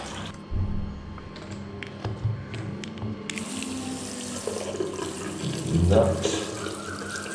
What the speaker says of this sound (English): you clean this with water again